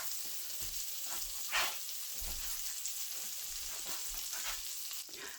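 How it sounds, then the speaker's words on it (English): Butter melting and sizzling in an iron skillet as the base for a roux, a steady close frying hiss with scattered small pops and crackles, no voices. "So I'm going to melt my butter first"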